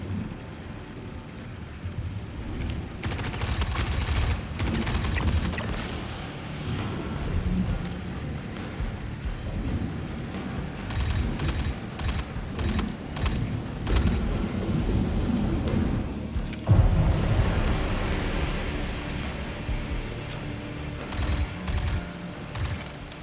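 Video game gunfire crackles in dense bursts and rapid volleys across the whole stretch, loud and continuous with heavy booming impacts and short pauses between salvos.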